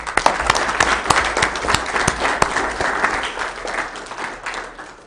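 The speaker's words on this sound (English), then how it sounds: "Let's give him a round of applause" An audience at a Weber County meeting gives a round of applause for an honoree, loud, close clapping with sharp individual hand strikes standing out from the crowd and fading slightly toward the end.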